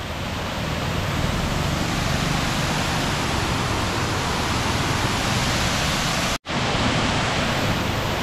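Strong rushing water pours over Curug Mekar waterfall in a loud, steady roar that fills the scene, broken only by a very brief dropout near the end.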